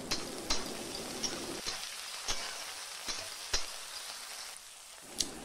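Chopped onion and small coconut pieces fry in a pan, giving a steady soft sizzle with a few sharp clicks and stirring knocks scattered through, close and moderately quiet, with no talking.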